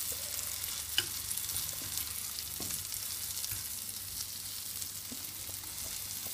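Tomato, apple and goat cheese aumônières cook in a pan after being turned over, giving a soft, steady sizzle with a few faint clicks.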